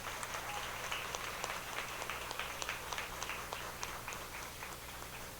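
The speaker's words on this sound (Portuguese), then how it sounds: "Eu pedi uma salva de palmas para eles, por favor." Scattered, faint clapping from a small gathering at a Mamulengo puppet-theatre school event, honouring its masters; sparse individual claps stand out over a low, steady background hum.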